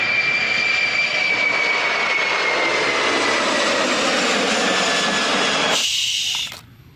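An Airbus A380 airliner's engines roar in a loud, steady sustained whine that holds for several seconds before cutting off abruptly near the end.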